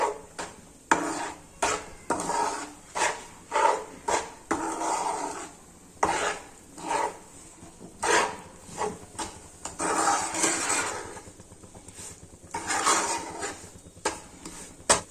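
Flour stirring and roasting in ghee in a pan over a medium gas flame for a farali rajgira shiro, with repeated spoon scrapes and clinks against the metal pan, close and fairly quiet, without talk.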